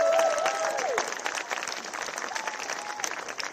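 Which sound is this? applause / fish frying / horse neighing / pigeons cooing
applause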